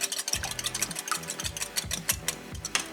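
Whisking eggs and vanilla in a measuring cup, a quick run of rhythmic clinking and tapping strokes, close and steady, with no talking.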